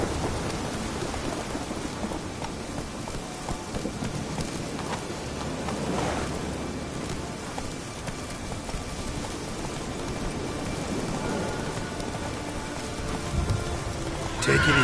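Geralt's horse Roach being ridden in The Witcher 3 during a thunderstorm, with neighing and hoof movement under steady rain and rumbling thunder, and a voice talking over it at times.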